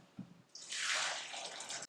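Hot pasta cooking water pours out of a pot in a steady, splashing hiss that lasts over a second, close and alone after a brief clunk.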